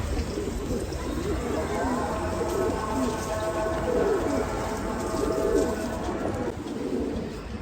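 Pigeons or doves coo repeatedly inside a coop, a soft layered chorus of low rolling calls over steady background noise, fairly close and continuous.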